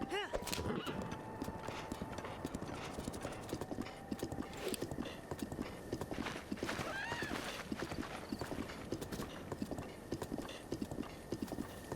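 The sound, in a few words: horse galloping and neighing in video game Breath of the Wild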